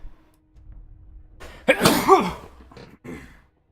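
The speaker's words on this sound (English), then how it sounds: "I'm about ready to sneeze" A single loud, close sneeze bursts out after a brief quiet breathy lead-in, followed by a short softer exhalation afterward.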